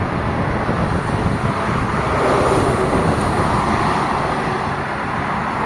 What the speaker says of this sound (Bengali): কত সুন্দরভাবে গাড়ি চলাচল করতেছে।